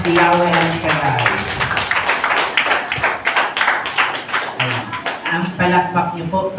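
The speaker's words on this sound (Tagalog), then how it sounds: "Ang palakpak niyo po, pang-antok na" Congregation clapping in rhythm during a church worship service, steady repeated claps under a speaking or singing voice that runs through most of the passage.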